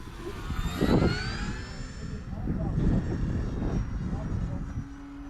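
A small E-flite Cherokee RC model plane's engine whines past on a low pass with no flaps, its pitch sliding downward as it goes by, with voices talking underneath.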